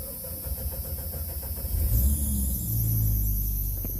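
A six-cylinder engine swapped into a Jeep YJ cranks briefly and catches, then settles into a steady, rumbling idle close by.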